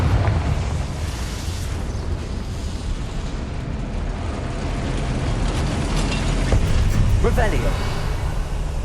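A Confringo fire spell in the game Hogwarts Legacy sets off a sustained rumbling explosion, a dense roar with scattered pops and crackles that swells slightly toward the end.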